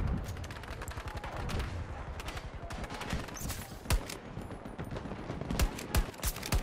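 Gunfire and explosions in the shooter game Battlefield 2042, steady rapid bursts of automatic fire crackling throughout with several heavier booming blasts cutting through, dense and continuous.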